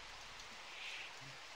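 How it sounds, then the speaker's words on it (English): Rain in the video game They Hunger, a faint, steady hiss of falling drops with no other sounds. "That rain."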